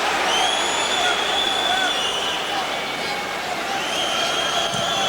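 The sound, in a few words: football stadium crowd cheering for Dortmund home side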